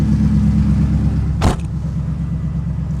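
A Chevrolet Camaro SS, rebuilt after a crash, cranks over with a brief starter whir, then its V8 catches and settles into a loud, steady, deep idle rumble close by.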